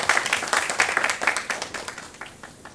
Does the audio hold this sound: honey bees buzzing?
no